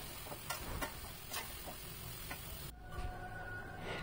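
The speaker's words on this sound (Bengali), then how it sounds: "আমি কচুরলতিগুলোকে দিয়ে দিচ্ছি।" Taro stolons going into a pan of prawn masala, with soft stirring clicks and a faint steady sizzle, quieter after a brief shift partway through.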